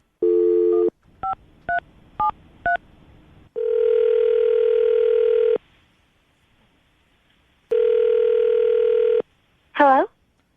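A telephone call begins with a short tone, then several quick dialing beeps, two long steady ringback tones separated by a pause, and a brief warbling tone at the end, all clear and close with no talking over it.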